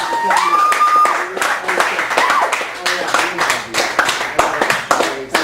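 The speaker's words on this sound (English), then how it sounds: "Please give it up for Esteban." Audience clapping at a poetry open mic night in a Chicago cafe gallery, lively and close, with broadband bursts of hands mixed with voices and tonal background sound throughout.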